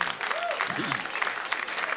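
Home crowd at a River Falls Fighting Fish baseball game applauding a fielding play, a steady wash of clapping from many people in the stands with a voice talking faintly underneath.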